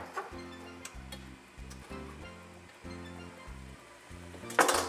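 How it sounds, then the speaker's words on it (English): Spicy Jamaican beef patty filling bubbles and sizzles in a pot, a steady close crackle with low rhythmic thuds and a sharp metallic clink near the end. "I'm gonna let all of this just simmer down."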